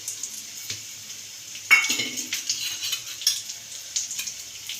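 Date pak mixture with raisins being stirred in a pan, with soft scraping and sizzling, gentle uneven movements close by and no talking.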